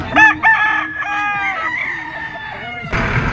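A two-year-old Peruvian gamecock crossed with a Sweater line crows loudly and close by, one long drawn-out call with rising and falling harmonics, before a burst of broadband noise cuts in at the end.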